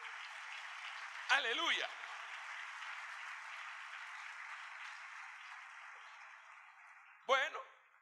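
Applause and cheering fill a church congregation, a steady dense crowd wash under a voice that calls out twice over it.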